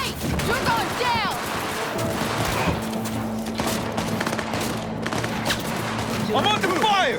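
Dense, continuous gunfire rattles through a Cyberpunk 2077 firefight, rapid bursts and shots layered over one another, with a character's voice shouting over the shooting at the start and end.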